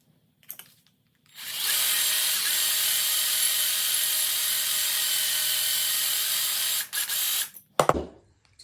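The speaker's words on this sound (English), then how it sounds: "So again, you're just drilling out the inside of that." A power drill bores out the inside of a broken golf club driver head: a brief tap, then a loud, steady high-pitched whine that holds for about five seconds, stops, and ends in a few short bursts and clatters.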